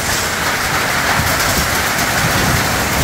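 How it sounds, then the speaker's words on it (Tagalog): Rain falls steadily at a foggy mountain spring resort, a dense, loud, even hiss of drops striking surfaces close by, with no voices. "Tapos may dalang ulan din"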